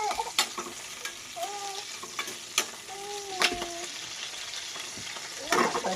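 Green chillies and tomatoes frying in a pan, stirred with sharp scraping strokes over a steady sizzle, close and moderately loud, with a short tonal squeak or chirp in the background.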